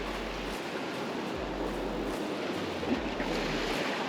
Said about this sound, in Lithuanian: Šiandien bangos mažesnės